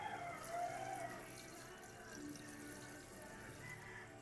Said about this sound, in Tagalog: pwede mo na siyang dagdagan ng tubig